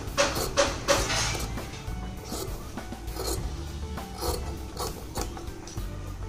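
Scissors snipping through fabric around a stitched kurti neckline, half an inch outside the seam, a steady run of close, crisp cuts and rasping blade strokes with no talking.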